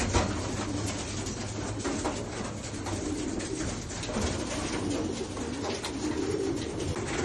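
Racing pigeons coo softly around their loft over a steady, dense background hiss and rumble, with no voices present.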